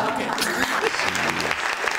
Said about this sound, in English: You should have gave it a golf clap with slow.